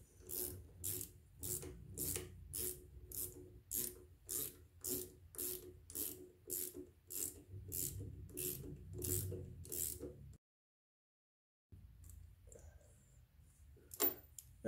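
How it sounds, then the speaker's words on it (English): A socket ratchet tightens the nut on a Harley-Davidson Road Glide brake master cylinder, producing a steady series of close, crisp clicking strokes in an even rhythm, then a short silence and a few faint scrapes. "Take your socket. Tighten up your nut."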